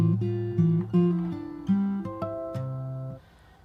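Fingerstyle acoustic guitar plays the opening bar of the verse of a song, a bass note and melody notes plucked together in a steady sequence of about six attacks, close and clear with no talking.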